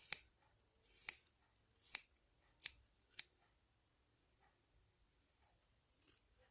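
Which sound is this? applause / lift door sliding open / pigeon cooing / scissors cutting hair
scissors cutting hair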